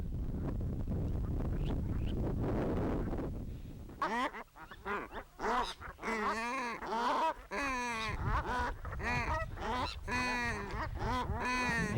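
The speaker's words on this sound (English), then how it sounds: "Gulls and turnstones mixed in with the brant." Brant geese call in a noisy nesting colony with gulls and turnstones mixed in, a dense run of honking and chattering calls that starts after a stretch of low rumbling wind noise and keeps going steadily near the listener.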